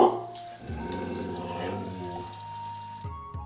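Water flowing steadily from a spring, a continuous close rush of running water heard on its own for a few seconds.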